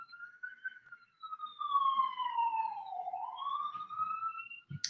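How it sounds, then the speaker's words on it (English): An emergency vehicle siren wails through New York City streets, a single rising and falling tone sweeping steadily at moderate distance, carrying clearly over faint background traffic rumble. "there will be sirens, and it's New York"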